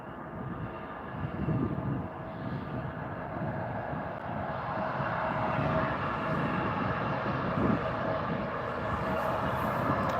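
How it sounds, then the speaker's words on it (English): A Pegasus airliner taxis at Stockholm Arlanda Airport, its engines giving a steady, moderately distant broadband whine and rumble that builds slightly over the clip, with no talk. "Got a Pegasus just taxiing along now as well."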